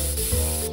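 A single close, loud hiss of bug spray from an aerosol can lasts under a second, with a short break near the end.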